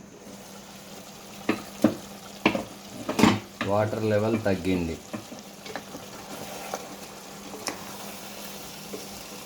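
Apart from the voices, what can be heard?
country chicken frying in a pan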